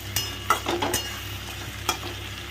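Fish curry stirred in a pan right after a little sugar goes in, with a low simmering sizzle under a few sharp scrapes and taps of the spoon against the pan.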